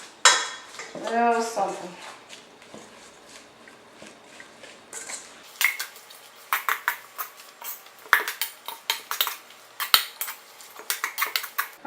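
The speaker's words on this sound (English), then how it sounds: "I switched to my wooden spoon to give it a better stir than I did before" A wooden spoon tosses Asian cabbage coleslaw in dressing in a bowl, giving close, irregular clicks and scrapes that quicken in the second half, with a brief spoken phrase near the start.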